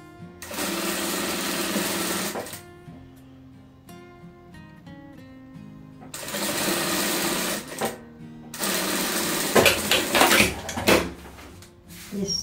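A sewing machine stitches a patchwork table runner made from fabric scraps, opening with a backstitch: loud motor runs in several bursts separated by quieter gaps with small clicks and handling noises.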